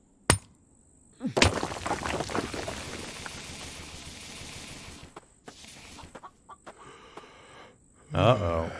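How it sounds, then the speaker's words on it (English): Clucking chicken in the survival crafting game The Infected, a few short clucks amid sharp clatter and crafting noises, with a player talking intermittently. "Uh-oh. Chicken."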